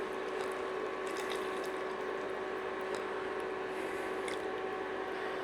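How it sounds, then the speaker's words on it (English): Beef stock is poured into cottage pie filling in a pan, giving a steady, continuous liquid rush with a faint bubbling squish throughout and no pauses. "Next we're going in with our 2 cups of beef stock."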